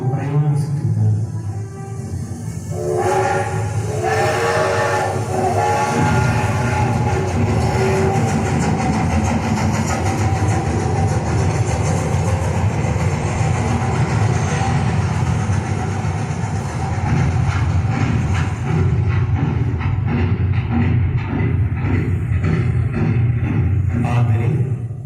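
A loud, steady rumble of a travelling train sound effect runs throughout, layered with a tonal, voice-like or musical sound.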